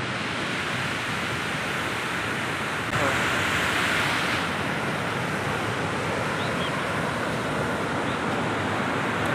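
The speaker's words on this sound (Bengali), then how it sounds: "পিছনে তো বাইরে দেখা যাচ্ছে ওখানে পানি আওয়াজটা তোমরা শোনো" Water rushing steadily outside in Nepal, a constant broadband roar like a stream or waterfall, fairly close and unbroken, swelling slightly louder partway through, with no voices over it.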